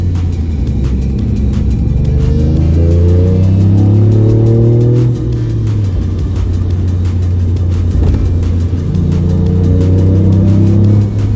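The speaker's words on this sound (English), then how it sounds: "a bit more induction noise coming from the front, a bit more a turbo noise coming from the front" A Toyota GR Yaris engine with an ITG panel air filter runs steadily and loud, its pitch rising and falling as it revs, with a faint whooshing intake and turbo whine over the drone.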